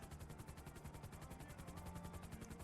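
A helicopter in a GTA roleplay video game makes a steady, rapid rotor chop with a quiet, even pulsing rhythm, faint and continuous, with no speech.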